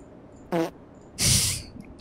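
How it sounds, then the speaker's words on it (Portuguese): Two short, loud fart bursts come through a voice chat during an online co-op Elden Ring session, a brief buzzy one followed by a longer, noisier blast, with faint background sound between them. "Você tá ouvindo meus peidos?"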